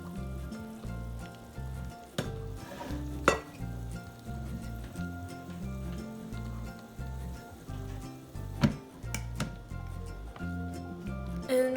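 Hot frying oil poured over chile de arbol crackles and sizzles steadily at moderate volume. A low background hum runs underneath, and a few clinks from the pot come through. No one talks.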